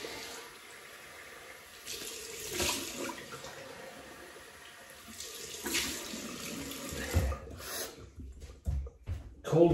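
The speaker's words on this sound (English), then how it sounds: "Cold water rinse." Cold tap water runs steadily into a sink for a rinse during a wet shave, a continuous close rush that swells and dips, with splashing and clatter near the end.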